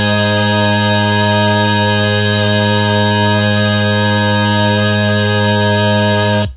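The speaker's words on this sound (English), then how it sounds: "what you're hearing is this high whistle that makes the ninth in the chord." A sustained sung chord from a vocal ensemble holds steady, rich in ringing overtones with a thin high whistle on top forming the ninth of the chord, cutting off abruptly at the end.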